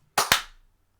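A single sharp hand clap for audio sync during a tabletop role-playing session, two quick close smacks fired almost together, loud and crisp, then a short room tail fading to silence.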